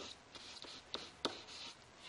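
Pen or pencil writing out math by hand, a faint steady scratching with a few brief sharper taps as strokes land, quiet and close with no talk.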